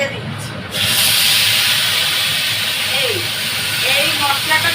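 A spice paste with chili goes into a hot pan of peas while cooking ghugni, and a loud, steady sizzle bursts up about a second in and keeps hissing while someone talks over it.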